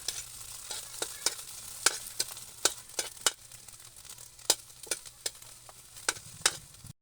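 Eggplant being stirred with vinegar in a frying pan for coconut-milk ginataang talong, a steady low sizzle broken by repeated sharp scrapes and clacks of the utensil, close and clear with no talking.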